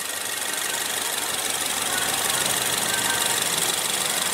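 2015 Ford Fusion engine idling, a steady, even mechanical hum with a constant broadband hiss and no change in pitch, heard close and alone.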